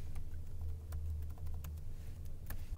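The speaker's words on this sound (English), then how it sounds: "I can type in the address and leave it at that" Rapid keystrokes on a computer keyboard entering an IP address during a basic router configuration, a steady run of close, crisp clicks alone over a low hum.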